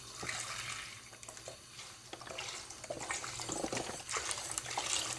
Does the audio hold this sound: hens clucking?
no